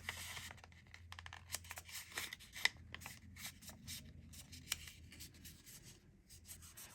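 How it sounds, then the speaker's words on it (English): A sheet of paper is folded in half at close range, giving soft crinkles and quick rubbing swipes as the crease is pressed down. The sounds are faint and come in short bursts. "to get the absolute center, I'm going to fold this in half"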